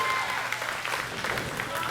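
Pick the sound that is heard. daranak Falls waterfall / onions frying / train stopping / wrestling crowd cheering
wrestling crowd cheering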